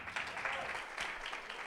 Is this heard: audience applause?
yes